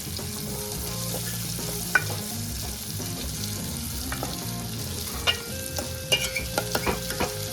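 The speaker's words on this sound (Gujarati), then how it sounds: "અને કટોલાને 5 મિનિટ આપણે તેલમાં સડવા દઈશું" Chopped kantola (spiny gourd) fries in hot oil with a continuous close sizzle and crackle. Quiet scraping and sharp taps of a spoon stirring come through, growing busier toward the end. No one speaks.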